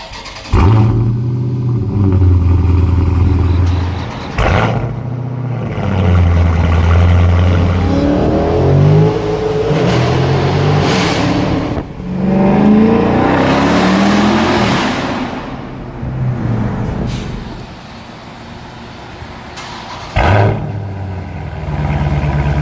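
A 2018 Dodge Charger Scat Pack with its mid-muffler deleted revs hard and loud several times, a deep rumbling exhaust rising and falling in repeated bursts with short idle gaps between.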